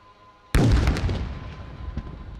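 A loitering drone strikes a helipad during an Indian Army swarm drone demonstration: one sudden heavy blast, then a long rumbling decay with a faint second thump, loud and carried over open ground.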